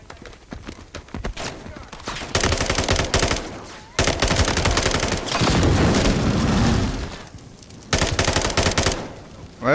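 Bursts of automatic gunfire in the Modern Warfare 3 campaign, loud and close, firing in sustained volleys separated by short pauses, with no one talking.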